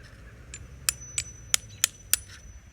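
Old mortar is chiseled off a marble grave marker with about six crisp, bright taps spaced roughly a third of a second apart, close by over a quiet low background hum.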